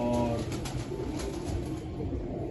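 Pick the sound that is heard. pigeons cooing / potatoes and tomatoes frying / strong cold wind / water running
pigeons cooing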